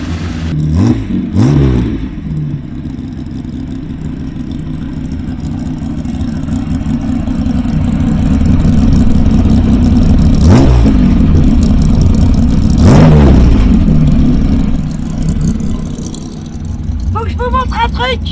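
A Jaguar E-Type semi-lightweight starts up and revs, with sharp blips near the start and two strong revs later over a loud, rough idle, while people talk in French.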